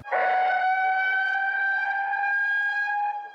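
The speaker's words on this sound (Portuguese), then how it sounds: "as sirenes soaram no Alto da Terezinha" A single long, steady wail of a civil defense warning siren at Alto da Terezinha, Bahia, loud and sustained on a fixed tone, holding for a few seconds before cutting off.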